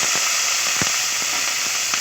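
Onion, ginger and garlic paste frying in hot oil for a fish curry, a loud steady sizzle with several sharp popping crackles scattered throughout.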